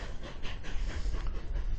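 A train rolls along the tracks with a steady, loud rumble and wheel noise from close by, heard from an open spot at the back of a car, with no talking.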